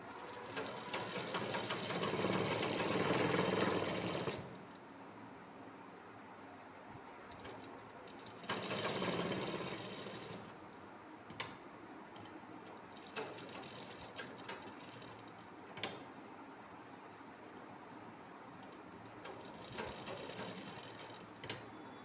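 A sewing machine stitches folded sleeve strips for a nightie in two steady bursts of whirring, the first about four seconds long and the second shorter, with faint clicks and handling sounds in between.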